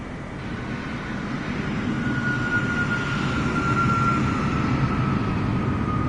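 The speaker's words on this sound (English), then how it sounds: "Shadow 747, continue taxi" A Boeing 747 taxiing in Flight Simulator 2024, its jet engines giving a loud, steady roar with a thin whine holding through it, alone with no voices.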